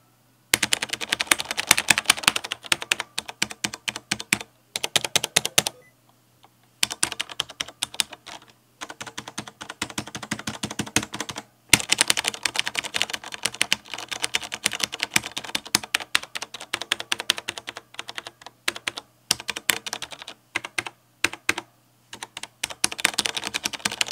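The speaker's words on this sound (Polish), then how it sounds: "A więc posłuchajmy dźwięku tej klawiatury." Rapid typing on a CM Storm Quickfire TK mechanical keyboard with Cherry MX Brown switches clatters close up in bursts of tactile clicks, with brief pauses between runs of keystrokes.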